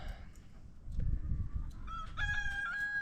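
A rooster crows from a short distance, its long drawn-out call rising clearly over a low outdoor rumble.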